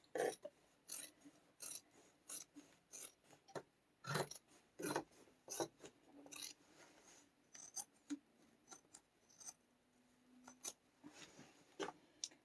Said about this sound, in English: So we are just trimming down the seam allowance everywhere but where the strap connectors are.